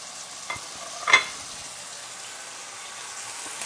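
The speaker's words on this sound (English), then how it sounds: "I'm going to put it into the hot oil" Steak sizzles in hot oil with a soft, even hiss, broken early by a couple of brief clinks and scrapes from a pan or utensil.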